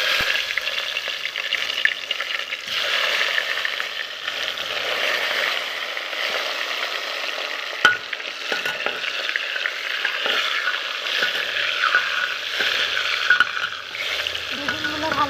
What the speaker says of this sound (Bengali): বেগুনগুলো ভালো করে ভাজতে দিয়ে দিলাম।